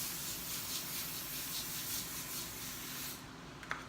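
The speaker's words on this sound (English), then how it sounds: "So I use non-stick cooking spray." A steady aerosol hiss of non-stick cooking spray coating a sheet pan runs for a few seconds, close by, then cuts off abruptly.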